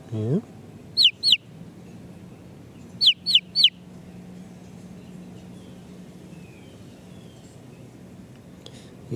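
Distant baby chicks answer with sharp, high peeping calls, one burst of two and then a quick run of three, faint over a quiet room with a low hum.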